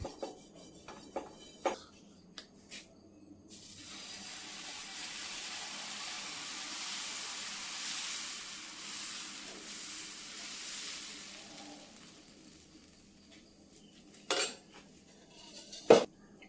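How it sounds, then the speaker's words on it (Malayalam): Ada dosa batter spreading on a hot pan, a broad steady sizzle and hiss rising after a few clinks of utensils, then fading back to scattered metallic taps near the end. "ഇനി അടുത്ത ദോശ ഒഴിക്കാം"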